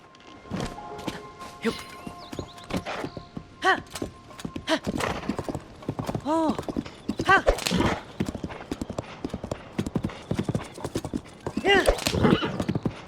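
A horse in The Legend of Zelda: Tears of the Kingdom gallops through Hyrule, close and loud, its rhythmic hoofbeats broken by several whinnies and snorts, while a person talks over the sound.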